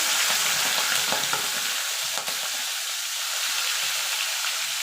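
Prawns frying lightly in hot white oil, a dense, even sizzle with faint spatters and one brief stirring knock, close and without voices.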